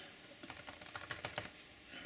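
Typing on a computer keyboard, a rapid, irregular run of light key clicks up close, with no one speaking.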